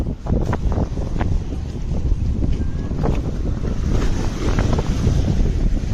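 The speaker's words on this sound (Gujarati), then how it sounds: "દરિયો ઉછળે છે પણ" Sea waves surge and crash at Gomti Ghat in Dwarka, a loud continuous roar mixed with gusting wind on the microphone.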